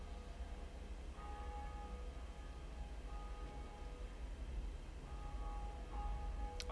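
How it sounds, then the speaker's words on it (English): A bell rung in the video game Dark Souls gives bright, sustained tones that start, fade and return a few times at moderate level over steady background hiss, with a sharp click right at the end. "It's a neat sounding bell."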